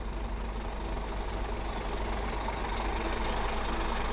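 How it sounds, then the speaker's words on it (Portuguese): Large truck rolling past close by on a rural road beside a herd of cattle, a steady loud engine rumble filling the whole stretch with no talk. "eles nunca viram um bicho assim, um caminhão passando tão próximo deles"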